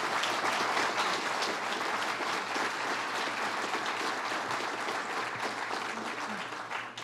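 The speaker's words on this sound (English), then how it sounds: "Let's give her a round of applause." An audience at a bill-signing event for the industrial hemp industry applauds in a sustained, dense round of clapping that stays fairly even throughout and fades slightly near the end.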